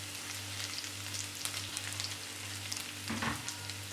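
Garlic, curry leaves and split dried chillies frying with cumin in oil for a green beans and potato stir fry, giving a soft, steady sizzle with a brief louder crackle near the end.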